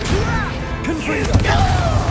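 Blasting-spell explosions from the Hogwarts Legacy video game: sharp crashes and whooshing impacts burst in quick succession amid battle noise, with a character's voice calling out over the effects.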